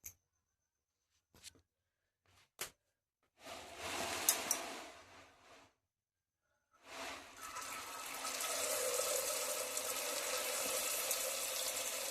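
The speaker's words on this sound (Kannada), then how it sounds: "ಇವಾಗ ನೀರು ಬಂದವರು ಇಷ್ಟು ನೀರು ತುಂಬಲತ್ತಿದ್ರು." Tap water runs into a container for filling at home: a few sharp clicks, then a burst of running water, a brief pause, and a steady, fairly close rush of flowing water to the end, with no talking.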